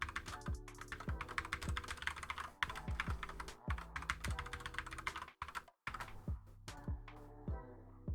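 Quick, close, crisp keystrokes on a computer keyboard as a password is entered, tapping in irregular bursts with brief pauses, with no talking.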